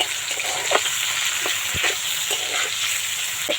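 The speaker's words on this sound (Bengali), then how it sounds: "দিয়ে দেবো কুচনো পেঁয়াজ পেঁয়াজটা একটু ভালো করে ভেজে নিতে হবে" Chopped onion frying in hot oil with black cumin, a dense, even sizzle with a few light spatula taps, close and steady throughout, no voices.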